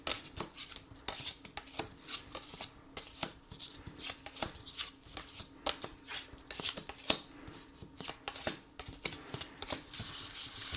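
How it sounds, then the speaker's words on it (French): Tarot cards are shuffled up close before a reading, making soft, rapid riffling and slapping bursts in an uneven rhythm that continues throughout. "Alors, on va faire le tirage."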